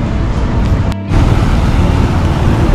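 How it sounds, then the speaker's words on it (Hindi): Traffic jam on a busy Paris avenue, a dense continuous roar of idling and creeping vehicles, loud and close, with a brief dip in the middle and no talking. "देखो यहाँ पर ट्रैफिक जाम भी लगता है"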